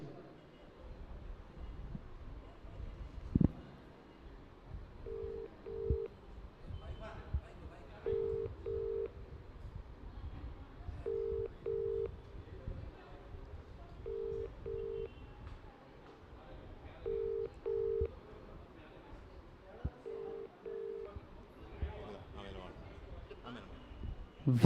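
A telephone rings out unanswered while a prize winner is called during a live lucky-draw broadcast from a shop in Udupi. Paired ringback tones repeat every few seconds over background noise and occasional talk.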